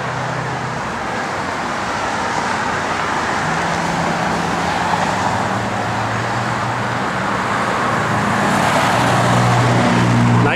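A 1970 Buick Gran Sport engine idles with a steady, deep rumble, holding an even low drone throughout and swelling slightly louder near the end.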